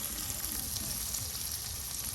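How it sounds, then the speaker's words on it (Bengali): Garlic paste sizzles in hot oil alongside onions for an eel fish curry, a steady, close hiss with a low crackling underneath that holds evenly throughout. "এই যে রসুন বাটা দেওয়া হচ্ছে"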